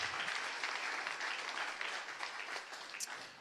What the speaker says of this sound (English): give yourself a big clap this morning.